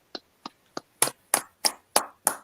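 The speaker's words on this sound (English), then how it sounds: "Clap it up." Eight sharp hand claps from a small group closing out an online class, starting as three sparse claps and building into a louder, steadier run of five with no talking.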